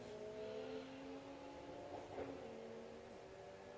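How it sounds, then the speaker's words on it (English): Toyota Supra drag car at a Japanese car show drag event launching on boost, a steady loud engine drone with a rising rev and a brief surge midway, heard from a distance without talk. "so it's Supra making a lot of noise on the start. It's going to come on boost"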